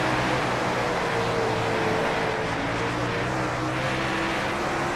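Dirt race car engines roar continuously at Eldora Speedway in a World of Outlaws racing game, a loud, steady, dense drone of several cars at high revs with no voices.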